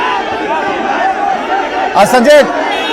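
A dense outdoor crowd of supporters gathered outside an Enforcement Directorate office murmurs and chatters steadily throughout, with a few louder voices rising near the end.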